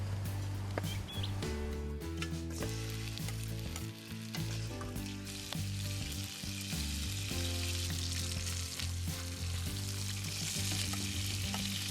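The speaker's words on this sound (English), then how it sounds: "in a good slug of Spanish olive oil," Pieces of rabbit meat browning in a generous amount of Spanish olive oil for a La Mancha rabbit stew, a loud continuous sizzle and crackle with occasional stirring scrapes, no voices.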